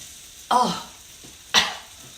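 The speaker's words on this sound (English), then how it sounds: "We got to get that garlic cooked, but not too much." Garlic cooking in a pan for shakshuka, two short bright bursts of sizzle about a second apart as it is stirred, over a quiet steady hiss, close up with no talking.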